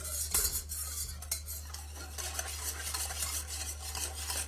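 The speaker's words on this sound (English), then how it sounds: "just kind of slowly whisk to incorporate all the milk into the dry ingredients" A whisk stirs milk into dry chocolate pudding ingredients for a single serving, giving steady soft scraping and clinking against the pot with a low background hum, no talking.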